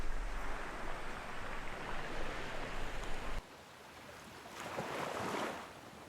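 Ocean waves at Brady's Beach wash in with a soft, continuous surf roar mixed with wind rumble, then a quieter swell that builds into one fuller wave rush before easing off.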